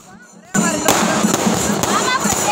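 A burst of firecrackers and fireworks erupts during a wedding-related procession, loud, dense crackling and popping with sharp bangs, close by and continuous after a brief quieter start.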